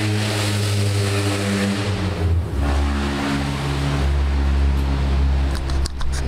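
A vehicle engine fitted with a muffler revs steadily in a mud pit, loud and close throughout, its low droning note dipping briefly before climbing again.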